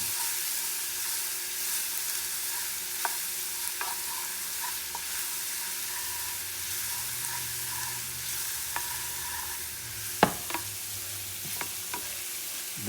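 Sweet plantain slices stirred and pushed around a hot frying pan, a steady soft sizzle with scattered scraping clicks and a few sharper taps from the utensil, no voices.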